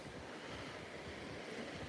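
Floodwater from a swollen river in Traunstein rushing continuously, a dense, faint broadband roar with no pauses.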